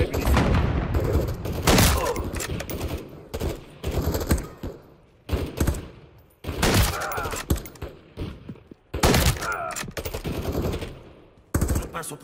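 Bursts of automatic gunfire and single shots from Call of Duty Modern Warfare 3 on PS5, loud and close, in repeated volleys with brief gaps over about twelve seconds, with faint voice chatter between them.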